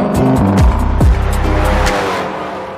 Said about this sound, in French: Ronronner le moteur, là.